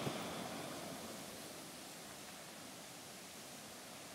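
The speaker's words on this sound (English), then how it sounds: "There's a lot of waterfalls and cascades here because it's a steep incline coming down from the mountains" Waterfalls and cascades on a steep mountain stream in the Great Smoky Mountains in autumn give a constant, even rushing roar of falling water, steady and unbroken with no talk.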